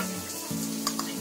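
Butter sizzling in a hot pan while pav is being warmed for masala pav: a soft, close sizzle with a low steady hum and a couple of faint clinks, no talking.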